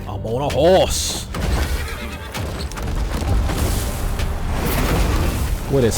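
A horse in the Marvel vs Capcom fighting game gives a sharp whinny near the start, followed by booming game effects and clattering sounds, with talking over much of it.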